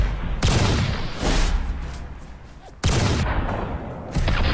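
The Blade Runner shotgun mod fires in Fallout 4: two loud, booming blasts with long rumbling tails, a weaker third shot at the end, close and without talk.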